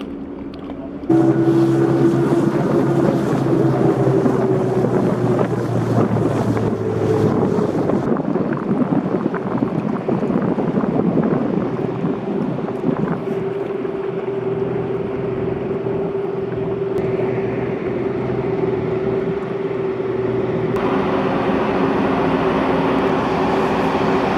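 Engines of a Princess 38 motor boat run steadily and loudly for the whole stretch, a constant droning hum with wind buffeting the microphone and no talk.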